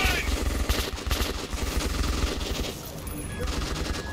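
Video game gunfire in Metro Redux: rapid automatic bursts and repeated shots run close and loud for several seconds with hardly a pause, while a voice is faintly audible underneath.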